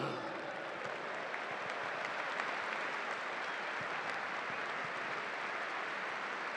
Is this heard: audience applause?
yes